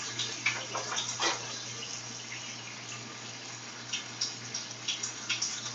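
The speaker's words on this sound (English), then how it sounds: "I got to wash my fucking spatula" A spatula is rinsed under a running kitchen tap, a steady close water hiss with a low hum behind it and scattered clinks and splashes as the utensil is handled.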